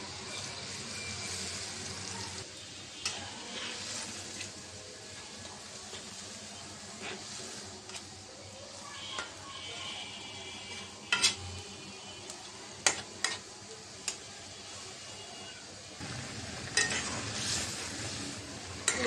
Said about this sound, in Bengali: মাছটা বলক এসেছে